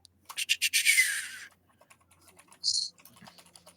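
Rapid clatter of computer keyboard typing during an online tabletop RPG session, a dense burst of keystrokes then scattered lighter taps and a brief scratchy swipe, fairly close and moderately loud with no talk.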